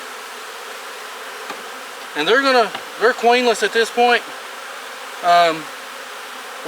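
Honey bees buzz in a queenless hive during queen rearing with grafts, a steady close drone running throughout while a person talks over it.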